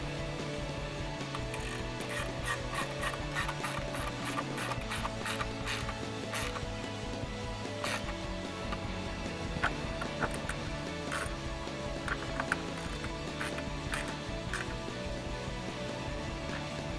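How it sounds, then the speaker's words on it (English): A 10mm socket ratchet tightens bolts on a 2018-2020 Ford F-150 headlight install, clicking in rapid repeated bursts of pawl ticks with brief pauses between strokes, close and clear over a faint background. "Now we can go ahead and tighten down our bolts using our 10mm socket."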